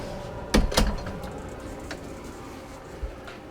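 A door opens or closes with two sharp knocks and a rattle close by, then faint thuds and a final soft bump in a quiet room.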